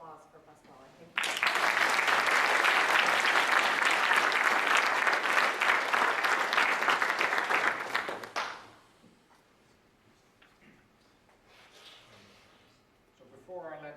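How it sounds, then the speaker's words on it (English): Following a brief spoken introduction, an academic conference audience erupts into loud, dense applause for a speaker, holding strongly for about seven seconds before cutting off abruptly; quiet room tone and faint voices follow, with speech resuming at the very end. "Our applause for Pasquale."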